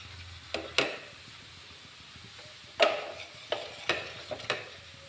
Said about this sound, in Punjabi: ਤੁਸੀਂ ਇੱਕ ਚਮਚਾ ਲੈ ਕੇ ਉਹਨੂੰ ਚੰਗੀ ਤਰ੍ਹਾਂ ਨਾਲ ਇਸ ਤਰੀਕੇ ਨਾਲ ਹਲਕਾ ਹਲਕਾ ਰਗੜ ਦਿਓ